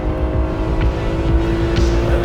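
A stock-looking BMW E36 M3 coupe with a swapped engine revs toward 8,200 RPM, giving a loud, steady, close engine drone that holds its pitch without breaks.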